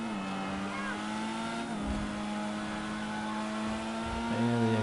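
A racing car engine in a video game (GTA Online) drones and rises in pitch as it accelerates, a steady mechanical whine with slight gear shifts near the end.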